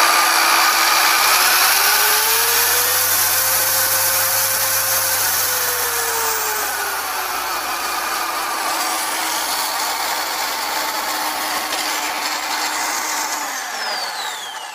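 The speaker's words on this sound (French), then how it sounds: "On va l'allumer, tu vas voir. Donc hop, on l'allume tout simplement." Clover DA8 V2 dual-action car polisher running in a garage, a loud, steady whine held throughout whose pitch rises and falls as the speed changes, with no talk over it.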